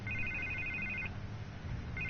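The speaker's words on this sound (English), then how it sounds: "I can't get the phone to stop ringing." A telephone rings in a Batman video game, giving two bursts of an electronic double-tone ring separated by a short gap over a low background hum.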